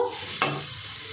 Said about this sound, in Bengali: মশলার সঙ্গে ডিমের কুসুমটাও আমি একটু ভালো করে কষিয়ে নেব